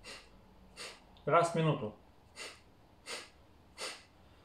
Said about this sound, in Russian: Первое у нас дыхание капалабхати. Дышим несколько раз.